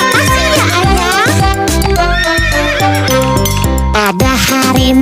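A horse pulling a delman cart neighs in a loud, close, wavering whinny with several rising and falling calls, mixed with music and voices.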